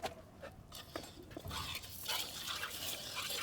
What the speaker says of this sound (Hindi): ये लो, एक धार खींच के मार दे, दूध टपकने लग जाता है जी।